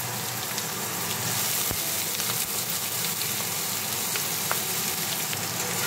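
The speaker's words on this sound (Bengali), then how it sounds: "এবারে আমি আলুটা দিয়ে ভাজা করে নেব।" Diced potatoes fry in tempered oil for semolina upma with a continuous, even sizzle and a few faint pops, close and unbroken, with no voices over it.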